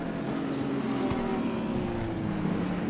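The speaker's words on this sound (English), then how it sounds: "Gotta love the sounds in this. So good, those engines, man." GT3 race car engines on the grid in Assetto Corsa Competizione, a Porsche and an Audi among them, giving a steady loud idling drone with low rumble throughout, no talk over it.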